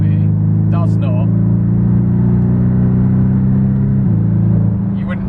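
Porsche Boxster GTS engine droning steadily under acceleration, loud and close from inside the car, with a brief pitch drop around a smooth gear change; faint higher squeaks float above the engine note.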